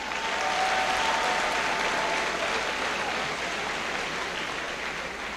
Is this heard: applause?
yes